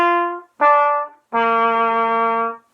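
Solo trumpet in a beginner lesson plays three sustained, clean notes with short gaps, the last held longest, close and alone with no talking.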